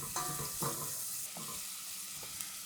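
Shallots sizzle softly in a pan on low heat, a quiet hiss with a few distinct scrapes and clacks of a spoon stirring them, no voices.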